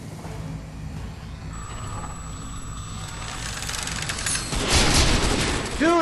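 Gunfire in Crysis 3 multiplayer Hunter mode: a steady wash of game noise builds into louder broadband bursts of shooting near the end, with a speaker's voice over the action.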